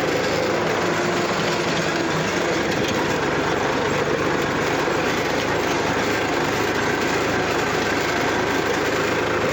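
A tractor engine runs steadily with a rotavator hitched behind on a farm, a loud continuous mechanical roar and rattle close by, unchanging throughout.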